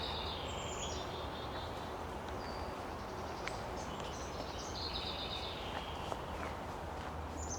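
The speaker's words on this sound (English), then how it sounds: "And we hear this chickadee calling" A black-capped chickadee gives a few faint, high calls in a forest at a spring birding festival, heard at a distance over a soft, steady outdoor background with occasional footsteps.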